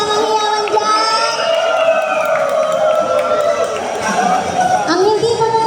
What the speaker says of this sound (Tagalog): mga sigaw po palakpakan na may kasamang hiyawan dyan